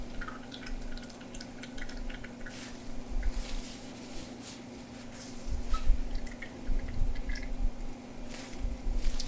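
Liquid dripping and trickling as moisture is squeezed out of gyro meat ingredients by hand, soft irregular drips and squishes close by, with a steady low hum underneath.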